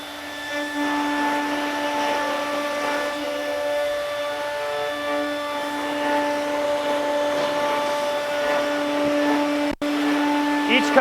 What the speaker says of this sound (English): starting the router to cut out the corners